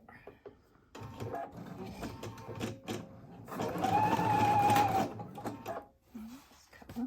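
An embroidery machine runs basting stitches around the hoop on a pillowcase, with a steady mechanical whirring and stitching that rises in the middle, while people talk quietly nearby.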